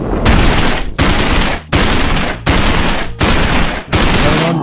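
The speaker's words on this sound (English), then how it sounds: "Rapid fire, that is amazing." Rapid-fire peashooter gun from a Plants vs Zombies mod game unleashes loud, dense bursts of shots in about six volleys, each separated by a brief gap, with no talking.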